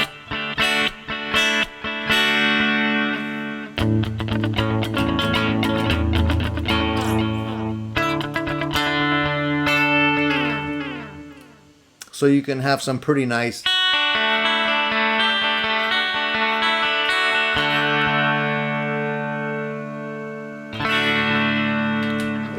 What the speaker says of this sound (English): if we go in here and go with the digital delay, you'll see the repeats do not have that degradation of sound